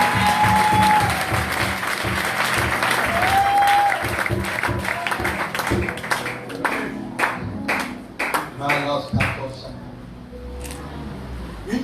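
A church congregation claps and applauds at a French-language worship service, a loud dense wash of many hands at first that thins into scattered, uneven claps and a few final taps.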